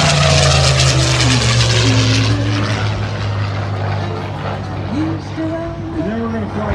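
An antique propeller airplane drones loudly and steadily nearby, its engine pitch wavering, while a voice talks over it.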